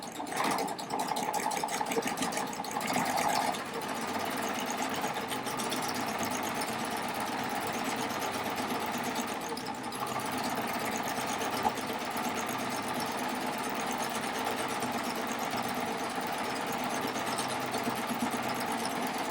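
A serger runs a 3-thread rolled wave stitch under foot-control power, a fast, steady mechanical whir and rapid needle chatter, close and continuous with a brief change in pace partway through.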